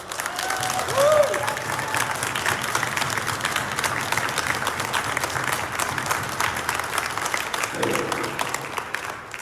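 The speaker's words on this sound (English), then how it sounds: "everybody, please give him a round of applause" An audience at the Targeted Justice 2024 main event applauds a speaker in a long, even round of clapping, with a brief voice near the start and a few faint cheers in the crowd.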